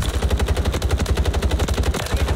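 Rapid, loud automatic gunfire in Call of Duty: Warzone, a continuous close machine-gun burst with evenly spaced shots throughout.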